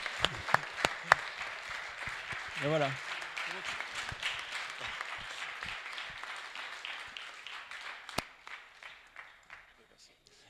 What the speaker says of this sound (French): Ça s'applaudit, je pense, quand même.